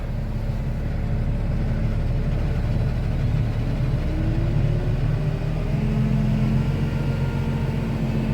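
A tractor engine driving a Bomford Hawk hedge cutter through its PTO runs steadily at a low, droning idle with a constant rumble and a faint rising whine partway through.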